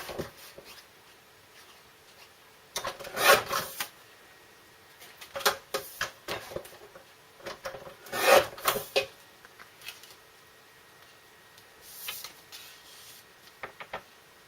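A greeting card being cut not quite in half, heard as a few short rasping, scraping bursts of blade through card, close and fairly quiet, with brief pauses between strokes.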